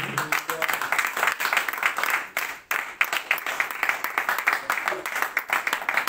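A church congregation applauds steadily, with dense rhythmic clapping that carries on for several seconds while voices can be heard faintly underneath.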